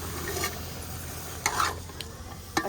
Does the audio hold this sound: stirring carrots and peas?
yes